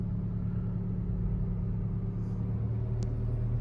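Inside the cabin of a Honda Civic with its electronic muffler opened, a steady low idle rumble drones on without any revving, with no one talking.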